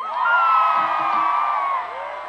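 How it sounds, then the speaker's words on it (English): Single women in a concert crowd at a performance in the Kampala Sheraton Hotel let out loud, high-pitched screams and whoops that hold steady and then fade a little toward the end. "All my single ladies, let me hear you scream."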